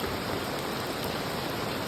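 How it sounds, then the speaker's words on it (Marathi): Heavy rain pours down over a dense festival crowd at Lalbaug, a steady, loud, even hiss of falling water that fills the whole moment with no voices over it. "पाऊस बघा."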